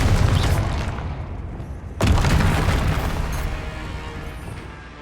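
Confringo spell blasts in Hogwarts Legacy: a loud booming explosion at the start decays over two seconds, then a second sharp blast hits and rumbles away slowly, no voices over it.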